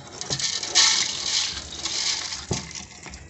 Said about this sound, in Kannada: ಅದಕ್ಕೆ ಸ್ವಲ್ಪ ನೀರು 2 ಲೋಟ ಹಾಕಿಕೊಳ್ಳುವ